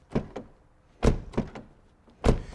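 Several solid thunks of a Volkswagen Passat B5.5 1.6 car door shutting, spaced apart with quiet between, close and fairly loud.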